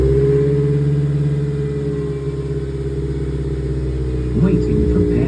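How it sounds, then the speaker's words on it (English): A 2003 Toyota Celica GT with a new exhaust idles with a steady low exhaust drone, then briefly revs up near the end before settling back. "Hope you guys enjoy the exhaust sounds."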